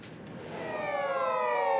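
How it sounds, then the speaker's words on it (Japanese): An ambulance siren grows louder as it approaches during a flood-defense drill, its wailing tone rising steadily over a low engine rumble. "深谷市消防本部の救急車が到着しています。"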